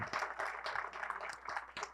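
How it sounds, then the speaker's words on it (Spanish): An audience at a lecture on the centenary of the Bank of Mexico gives its teachers a short round of applause, a faint, scattered patter of hands. "yo les pido un aplauso para sus profesores"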